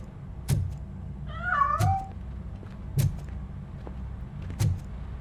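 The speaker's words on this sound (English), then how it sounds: "That cat must be hiding inside." A cat meows once in the Robocop: Rogue City video game, a short wavering cry amid a quiet indoor scene with several sharp knocks or thuds spaced about a second apart, no talking.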